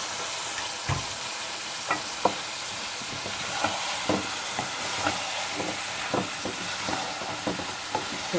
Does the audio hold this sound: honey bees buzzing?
no